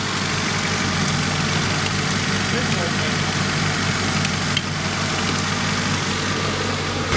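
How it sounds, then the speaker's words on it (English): A 1991 Honda Civic engine, back running after more than ten years of sitting, idles in a steady, loud, continuous rumble with an even drone throughout. "We'll let it idle for a little bit."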